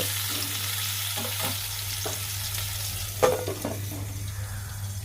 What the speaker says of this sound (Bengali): পটলটা ডিপ ফ্রাই হবে না মোটামুটি হাফ ফ্রাই করব মানে স্টাইল করে যেটাকে বলে শ্যালো ফ্রাই